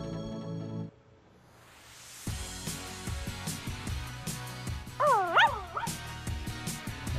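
A cartoon puppy in the Wii U game Barbie & Her Sisters Puppy Rescue yips and whimpers in short, rhythmic, high-pitched bursts over bright game music, with a louder squeaky run of yelps near the end.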